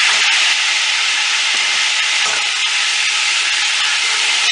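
Onion sautéing in leftover meat oil in a pot for a traditional Greek stifado, a steady close sizzle and hiss running continuously with no voices.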